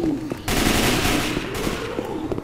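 Rapid automatic gunfire crackles loudly and continuously in a Left 4 Dead 2 zombie-shooter campaign, a dense burst of shots lasting a couple of seconds.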